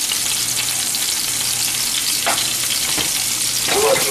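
Hamburger meatballs fry in a pan with a loud, close, steady sizzle, with a few soft scrapes toward the end.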